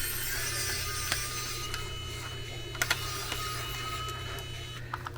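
A small rechargeable cordless screwdriver motor whirs steadily while backing screws out, a continuous mechanical hum with a few faint clicks and ticks scattered over it, moderately quiet and with no talking.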